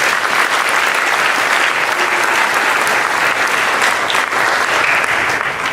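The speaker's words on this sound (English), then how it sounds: "How about another round of applause for her?" A school band concert audience gives a steady, full round of applause that holds at an even loudness throughout.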